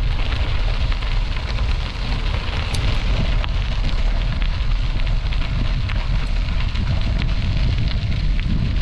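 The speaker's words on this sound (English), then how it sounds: "I think we're going into the wind. Wind is coming from the east, it feels like." Headwind roaring across the microphone of a bicycle riding the Iron Horse Trail near Hyak, Washington: a loud, steady, broadband rush that buffets continuously with no pauses.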